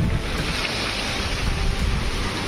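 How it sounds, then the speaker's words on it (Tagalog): Big ocean waves crash and surge close to a seaside house in rough, stormy weather, a loud continuous roar of surf with steady wind noise on the microphone. "Grabe yung alon"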